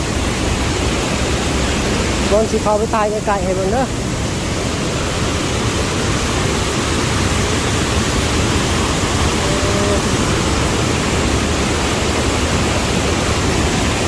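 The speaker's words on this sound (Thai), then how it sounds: "น้ำไหลน้ำไหล" Water rushing over a waterfall in a Lao forest, a steady, loud, broadband roar that never lets up, with someone speaking briefly over it near the start.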